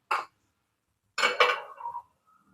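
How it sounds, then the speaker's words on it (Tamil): A metal kadai clanks down once onto a stove, then after a pause scrapes and rattles briefly against the stovetop, close by in a quiet room. "தாளிசம் பண்ணதுக்கு ஒரு கடாயை அடுப்பில் வச்சுக்கலாம்."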